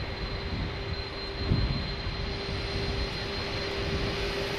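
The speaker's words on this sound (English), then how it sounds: "just look at those engines spooling" Airbus A310 jet engines in Microsoft Flight Simulator 2020 (iniBuilds A310) give a steady, loud broadband roar with a thin high whine running throughout, spooling up, with no talking.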